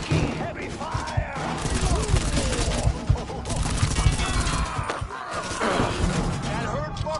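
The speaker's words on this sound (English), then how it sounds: "Taking heavy fire!" Heavy, sustained gunfire and explosive crashes from the Mafia 3 video game, dense and loud throughout, with shouting voices mixed into the chaotic firefight.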